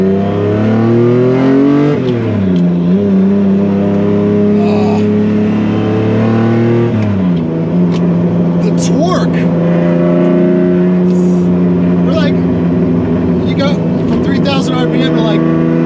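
A Lamborghini Diablo V12 engine revs hard while driving on Angeles Crest Highway, its loud harmonic drone rising and falling across several gear shifts, with a voice talking over the engine note throughout.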